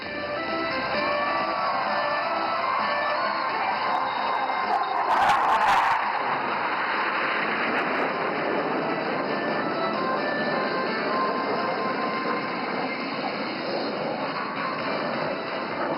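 Aircraft flying past at the Aero India 2025 air show at Yelahanka Air Force Station, Bengaluru, producing a steady, loud, broad roar that swells briefly partway through and holds throughout.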